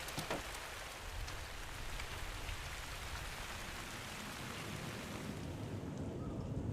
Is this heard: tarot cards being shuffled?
no